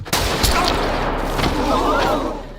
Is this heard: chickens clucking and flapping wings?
no